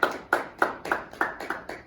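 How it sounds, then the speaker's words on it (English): A small group of listeners claps briefly for Wendy Kopp, roughly seven sparse, separate claps in about two seconds, fairly close and with no voices over them. "Can I get a round of applause for Wendy?"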